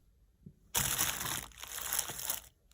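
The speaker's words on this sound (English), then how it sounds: "Plastic bag actually." A plastic bag is crumpled close up: after a quiet start, a sudden burst of loud crinkling and crackling runs for under two seconds, then stops, leaving near silence.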